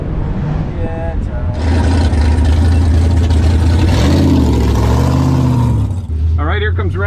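A COPO Camaro drag car fitted with a new Magnuson blower rumbles loudly and steadily at the strip before a quarter-mile run, its deep engine note swelling after a quieter opening and then settling, with brief voices near the end.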